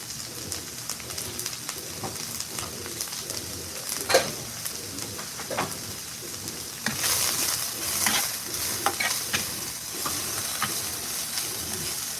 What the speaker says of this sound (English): Fry them up. I like extra crispy onions on my cheesesteaks